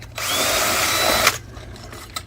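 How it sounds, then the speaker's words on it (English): A power drill runs in one loud, close burst of about a second, boring a drain hole through the bottom of a dried gourd, then stops, leaving a low hum and a soft tap. "drill a couple of drain holes down here on the bottom"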